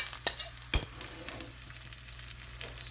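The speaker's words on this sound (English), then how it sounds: "stir-fry some kale and onions" Kale and onions stir-frying in an overheated pan at home, with a quiet sizzle and occasional sharp clatters of stirring, close and moderately soft, no voices.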